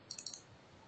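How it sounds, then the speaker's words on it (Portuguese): A computer mouse double-clicks, making quick, faint, crisp ticks in a brief cluster against quiet room tone. "Clicando duas vezes."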